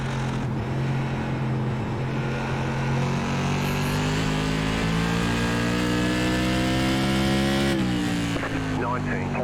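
Race car engines drone in the iRacing sim during a Whelen Tour modified race at Stafford Motor Speedway, a loud sustained buzzing roar that climbs steadily in pitch, then dips briefly as cars shift, with talk over it.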